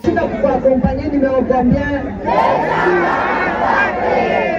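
A crowd escorts a campaigning candidate on foot through a street in the Moïse Tchombe (Dure) district, a dense, steady mass of shouting and chanting voices that swells and grows louder partway through.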